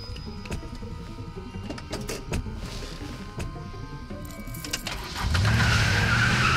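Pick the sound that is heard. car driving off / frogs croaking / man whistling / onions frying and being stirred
car driving off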